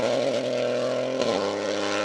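A Peugeot 208 historic-class rally car with a 1.2 litre engine drives a forest rally stage, its engine droning steadily and fairly close with a brief shift in pitch midway.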